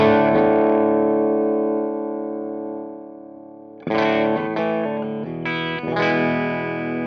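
Electric guitar played clean through an Orange TH30h valve amp, master cranked and gain down: a long ringing chord decaying for about four seconds, then a few fresh strummed chords, bright and sustained with no voices.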